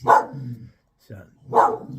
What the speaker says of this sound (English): That's my dog Elsa.